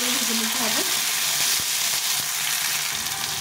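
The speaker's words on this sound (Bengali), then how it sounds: "টমেটোটা একটু ভালো করে ভেজে নিতে হবে" Two tomatoes sizzle and fry in a hot pan, a steady close crackle with occasional stirring clinks and a brief voice at the start.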